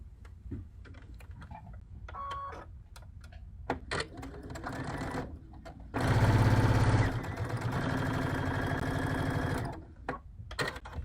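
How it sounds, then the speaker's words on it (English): A sewing machine stitches a seam on a fabric chicken pin cushion, starting with a few clicks and handling noises, then running in a fast, steady, close whir for several seconds before stopping. "And now I'll just take it to the machine again, and I will sew down that seam."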